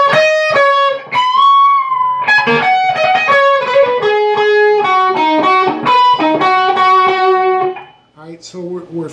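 Fast distorted electric guitar solo, loud rapid lead runs with dense bright notes, ending with a brief stretch of talk.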